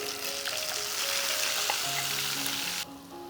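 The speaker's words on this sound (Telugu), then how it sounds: "మనం పేస్ట్ చేసుకున్న పచ్చిమిరపకాయలని ఈ నూనెలో వేస్తున్నాం." Green chilli paste sizzles loudly in hot oil for an Andhra chilli chicken, a dense steady crackle with faint higher tones, dropping off sharply near the end; no one speaks.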